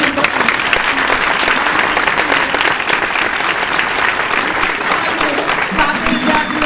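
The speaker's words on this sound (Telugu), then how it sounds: "అందుకే మా పిల్లలందరికీ కూడా ఒకసారి పెద్ద చప్పట్లు" An audience at a Geetha Jayanthi school gathering claps loudly for the children, dense, sustained applause at an even level from start to finish, with a few voices mixed in.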